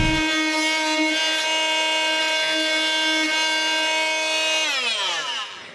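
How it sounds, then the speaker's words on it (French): A power drill bores a hole through wood for an electrical box, a loud steady whine holding one pitch for several seconds before winding down and stopping at the end. "Il faut aussi que je perce pour mettre une boîte électrique."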